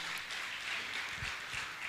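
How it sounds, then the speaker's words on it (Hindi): Audience applause at a religious gathering with Muni Shri Praman Sagar, a steady dense wash of many hands clapping, moderately loud and continuous throughout. "आप जोरदार ताली बजाकर इनका सम्मान करें"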